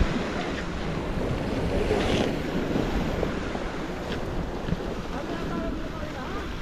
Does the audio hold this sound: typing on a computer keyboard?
no